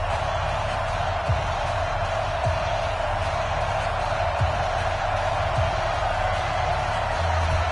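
NFL stadium crowd in a PS4 football game, Cincinnati Bengals against Buffalo Bills: a steady, dense roar of distant crowd noise that holds level throughout, with no distinct cheers rising above it.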